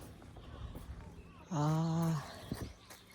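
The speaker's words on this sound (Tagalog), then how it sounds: "Na ay uwak sa ibabaw." A single loud, harsh crow call sounds overhead in a park, a drawn-out caw standing out over faint background voices and footsteps.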